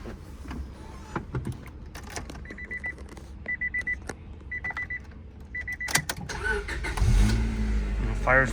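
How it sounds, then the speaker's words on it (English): Starter cranks a 1998 Honda Civic Type-R engine, which catches and settles into a steady idle near the end, preceded by rhythmic whirring bursts and clunks with some talking in between. "I will do an engine start."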